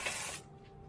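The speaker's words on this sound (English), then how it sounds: "Spray it on." Organic wheel cleaner sprayed onto a Tesla's wheels, a single close, loud hiss about half a second long that cuts off into quiet.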